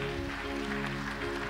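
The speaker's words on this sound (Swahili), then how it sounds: "Pigieni Bwana makofi" Clapping from a church congregation during a Kikuyu covenant renewal Sunday service, a quiet, continuous patter of hands heard beneath sustained organ-like tones.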